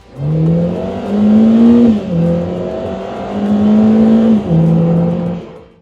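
A Lotus Emira sports car's 4-cylinder engine revs loudly and close, climbing in pitch, dipping briefly and then rising again in two smooth surges.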